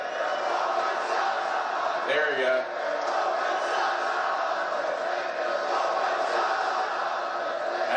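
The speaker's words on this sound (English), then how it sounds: "That's a Raw After Mania crowd, bona fide guaranteed." Wrestling crowd at WWE Raw After Mania roaring with a steady, dense wall of cheers throughout, while a person speaks briefly over the noise partway through.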